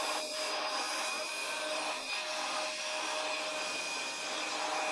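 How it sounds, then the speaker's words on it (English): A hairdryer blowing alcohol inks across a painting surface: a continuous airy whoosh with a faint high whine, steady and close throughout, with a few soft rustles and no speech. "Turn on the hairdryer. Start blowing from the center at an angle."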